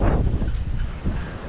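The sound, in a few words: strong wind at Lake Garda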